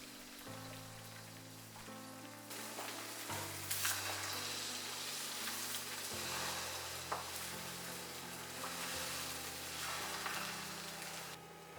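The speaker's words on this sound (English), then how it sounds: "Lastly, you want to cook up the eggs." Eggs sizzle in a frying pan with a continuous soft crackle and spatter, heard under a gentle musical backing with held chords that change every few seconds.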